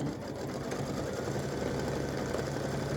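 An embroidery machine stitches a diamond pattern on an elf hat appliqué, a steady close mechanical whir with rapid needle chatter running alone without pause.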